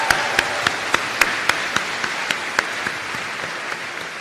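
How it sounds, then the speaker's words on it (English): Applause at a graduate school student recognition ceremony after a speech, a steady wash of clapping from a seated audience with a few sharper individual claps standing out at a regular pace, fading slightly toward the end. "let's get another round of applause for that incredible speech from Lambert"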